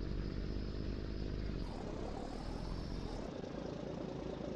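Steady low drone of a DAF XF 105 truck engine idling in Farming Simulator 19, a constant close rumble with no talk, its character shifting slightly partway through.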